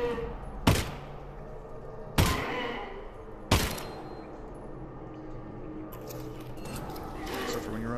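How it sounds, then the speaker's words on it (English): Three sharp gunshots from the Half-Life: Alyx virtual reality game, spaced a second or more apart and ringing briefly, with game sounds and a voice talking underneath. "But I still sort of panic fired, wasted a shot."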